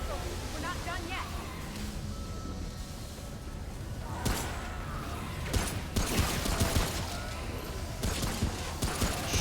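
Gunfire in Remnant: From the Ashes crackles as sharp scattered shots, sparse at first and denser later, over a steady background rumble, with a voice talking.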